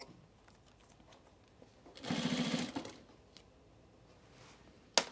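A sewing machine stitches along a shirt collar in one brisk burst of about a second, its rapid needle rhythm close and clear above quiet room noise, followed by a short sharp click.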